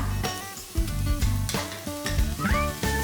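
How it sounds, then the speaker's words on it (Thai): Garlic, onion and champignon mushrooms stir-fried over medium heat in a pan, a steady sizzle broken by repeated scraping and clanking of a utensil against the pan, close up with no voice. "ตั้งกระทะใช้ไฟกลางนะคะ ใส่กระเทียม หอมใหญ่ และเห็ดแชมปิญอง ผัดจนกว่าเห็ดแชมปิญองจะนิ่มเลยนะคะ"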